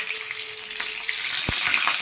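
Black cumin and radhuni seeds sizzle in hot oil in a wok, a steady close frying crackle with a few sharp pops, no voices.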